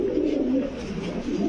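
Fancy pigeons such as beauty, king and potter breeds coo in soft, low, rolling murmurs at a pigeon seller's stall, close and continuous with overlapping calls and no talk.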